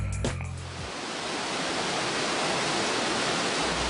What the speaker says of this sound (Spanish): El ensordecedor ruido del agua nos avisa que ya estamos próximos a la salida